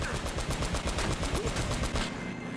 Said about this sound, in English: don't come at me with them shotguns